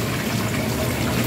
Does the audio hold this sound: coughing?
no